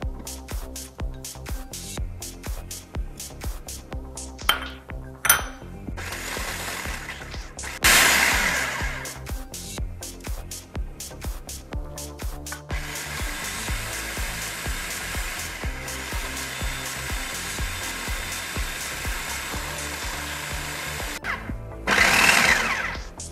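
Food processor pulsing low carb peanut butter bar ingredients with almond flour, a loud grinding whir that runs in bursts and surges, close up and without talk.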